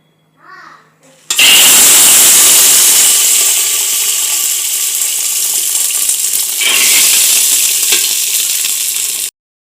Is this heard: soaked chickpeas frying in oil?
yes